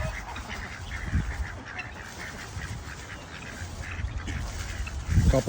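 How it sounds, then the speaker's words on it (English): Ducks on a farm pond quack in scattered, rough calls, some near and some farther off, over steady outdoor background noise, with a louder burst at the end. "Here's more ducks in their pond."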